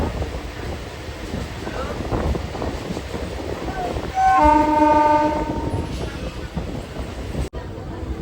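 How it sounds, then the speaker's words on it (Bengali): A new passenger train on the route to Digha rumbles in steadily, with a loud, sustained horn blast in the middle, wind buffeting the microphone throughout and a sharp break just before the end. "coming soon train"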